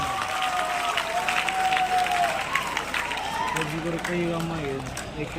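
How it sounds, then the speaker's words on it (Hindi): Crowd applause welcoming Devender Kadyan on his arrival in his village in Ganaur, Haryana, steady clapping from many people throughout, with tonal voices and music-like sounds mixed above it. "जोरदार तालियों से अभिनंदन और स्वागत।"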